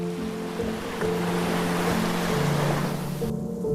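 Ocean waves washing onto a beach as a radio drama sound effect, a steady loud roar of surf swelling and breaking over a low tonal hum, with no voices.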